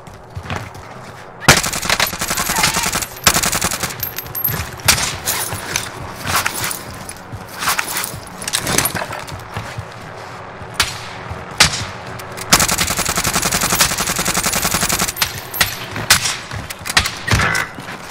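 Warzone gunfire fills the scene, with sharp sniper cracks and bursts of automatic fire that come in loud clusters and scattered single shots over a steady rumble of in-game noise.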